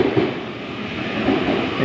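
A two-car Uchibo Line train bound for Tateyama via Kamogawa pulls into the platform, a steady, loud rumble of wheels and motors with faint rail clatter, no voices.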